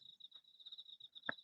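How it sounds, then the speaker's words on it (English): A cricket chirping outdoors in a garden, a steady high trill running throughout, close and fairly quiet, with a sharp tap partway through. "Cricket."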